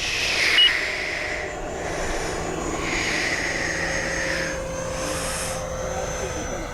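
An FMS F-18 70mm electric ducted fan model jet whines steadily overhead, its pitch rising and falling as it passes in flight, mid-distance and continuous for several seconds.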